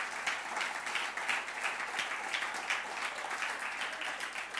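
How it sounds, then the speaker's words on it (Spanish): Steady applause from a church congregation fills the whole stretch, dense and moderately loud, with a rippling texture of many hands clapping and no talk over it. "Dale un aplauso al Señor si quiere"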